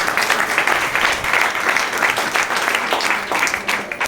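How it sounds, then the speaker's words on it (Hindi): Audience applause in a Hindi-language seminar or training session hall, steady dense clapping throughout at a loud, near level with no break. "तो इनके लिए एक जोरदार ताली होना चाहिए।"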